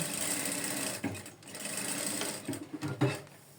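A sewing machine stitches a trouser pocket in a steady whirring run, briefly pausing and restarting near the middle and end, close and clear with no talking.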